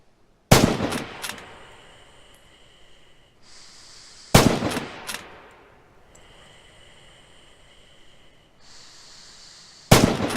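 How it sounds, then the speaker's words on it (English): Rifle fire at targets in Red Orchestra 2: three loud, sharp shots a few seconds apart, each followed by a ringing echo that fades into quiet. "Open fire at the targets again."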